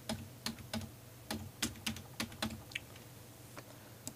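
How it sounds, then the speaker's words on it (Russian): Text being typed on a computer keyboard while working in Photoshop: a close series of crisp, uneven key clicks in short runs, with no voice heard. "здесь мы уже пишем нужный нам текст"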